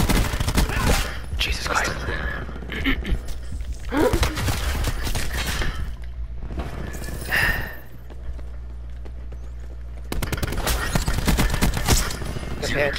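A weak gun in Call of Duty: Black Ops 4 fires in loud rapid bursts, sometimes like a fusillade, separated by quieter gaps with footsteps, and a voice exclaims between shots.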